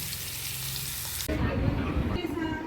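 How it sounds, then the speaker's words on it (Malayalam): Fish fries in a pan with a hissing sizzle that swells abruptly partway through into a louder, denser crackle. The sound is close, and no one speaks. "ഇനി ഇത് നമുക്കൊന്ന് വറുത്തെടുക്കാം."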